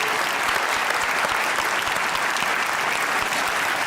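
Sustained audience applause during a live comedy talk-show taping, dense steady clapping filling the room at even loudness from start to finish with no speech over it.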